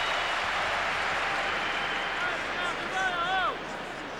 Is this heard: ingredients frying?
no